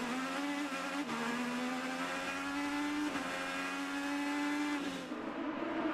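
An IndyCar race car's engine screams onboard at the Long Beach street circuit, a loud sustained high-revving drone with brief dips at gear changes, nothing else audible over it.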